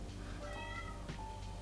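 A house cat meows a few times in the background, soft and somewhat distant, over a steady low room hum, with no talking.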